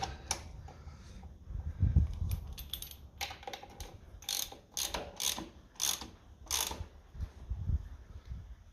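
Tightening the air cleaner fittings on a 1955 Ferguson 20 TEF diesel tractor gives quiet metallic ratcheting clicks in short bursts, with a few dull knocks between them, close up and alone.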